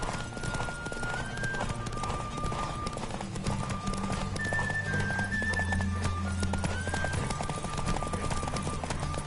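Rapid, rhythmic hoofbeats of a galloping horse in The Witcher 3: Wild Hunt, layered with electronic game music and tones, continuous and fairly loud.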